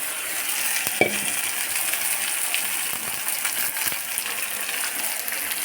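Fish sizzles and fries in hot oil in a pan, a steady bright crackling hiss with one sharp spit near the start.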